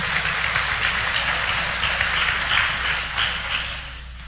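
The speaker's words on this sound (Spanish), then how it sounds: "Dele un fuerte aplauso al Señor" Congregation at a church service applauding the Lord, a dense, steady wash of clapping throughout with a low hum underneath, no voices.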